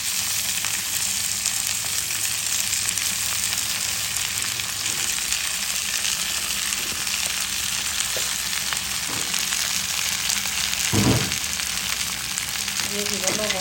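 Okra, onion and green chillies fry in hot oil with a loud, unbroken sizzle and an occasional knock of stirring.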